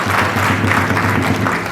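A crowd gives loud, continuous applause at a speech celebrating Yanga's championship, a dense and steady roar of clapping hands with no pauses.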